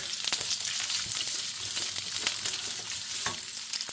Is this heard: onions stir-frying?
yes